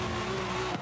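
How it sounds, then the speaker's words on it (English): A car in the Forza Horizon 5 racing game brakes hard and skids, a sustained engine drone with tire squeal that cuts off abruptly just before the clip ends. "I braked because I missed the checkpoint"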